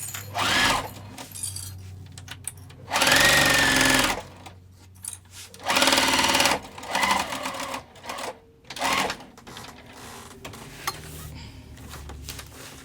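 Sewing machine stitching a crossbody bag, running in several short bursts of a few seconds each with pauses between, close and clear.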